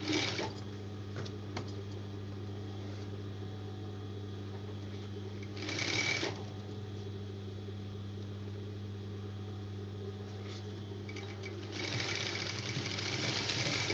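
A sewing machine stitches folded fabric for a garment, its steady mechanical hum running throughout with two louder bursts of fast stitching, close and alone with no voices.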